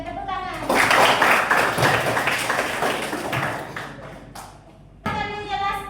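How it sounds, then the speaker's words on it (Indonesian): Classroom applause breaks out in a dense burst of many hands clapping, sustained for several seconds before fading, with a teacher's voice speaking before and after. "Tepuk tangan."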